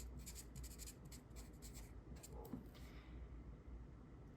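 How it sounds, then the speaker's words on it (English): Pen or marker writing by hand on a surface, a soft scratchy stroking in quick bursts through the first three seconds, then fading into quiet room tone. "Let me write customer here."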